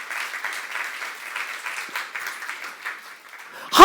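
Church congregation applauding during a youth service sermon, a dense wash of many hands clapping at a steady level, with a sudden louder sound at the very end.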